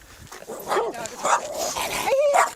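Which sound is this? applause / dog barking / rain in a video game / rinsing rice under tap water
dog barking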